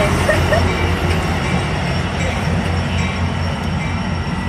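A loud, steady rumble of an Amtrak Capitol Corridor passenger train approaching San Jose Station, with low droning engine noise and faint metallic squeals, close by and continuous.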